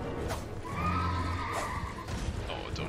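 A horse in the video game Elden Ring neighs in a short rising whinny, fairly faint amid game sounds and light hoofbeats.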